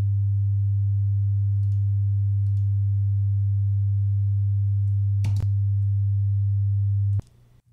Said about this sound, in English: I can see that I've synthesized a sine wave